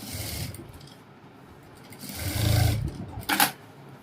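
Domestic sewing machine stitching the lining of a princess-cut blouse, short bursts of motor whir and needle rattle with pauses between, no talk.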